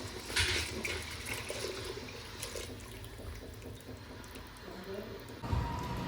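Cooking water, saved from boiling lentils, poured into a Maharashtrian amti curry, a continuous close splashing and gushing stream that swells near the start and again at the end, with no talking.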